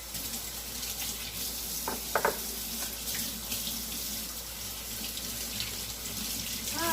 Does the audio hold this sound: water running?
yes